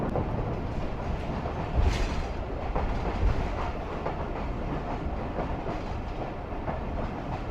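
Passenger train running steadily on the rails in heavy fog near Larkana, with a continuous dense rumble of wheels and carriage noise and a couple of brief louder knocks, no talking.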